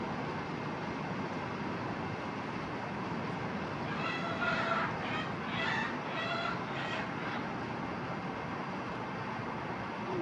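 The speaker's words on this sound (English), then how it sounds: "To get rid of my rooster. Sound like he in there picking on one of my girls." Faint clucking and squawking from a rooster among hens rise briefly midway, heard at a distance over a steady background hiss.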